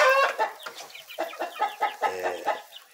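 Laying hens cackle and cluck after laying eggs, a close series of rhythmic, rising calls repeated about ten times in under three seconds.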